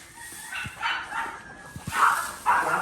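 Dogs bark in several sharp, separate yaps and woofs at moderate distance, spaced irregularly over a quiet outdoor background.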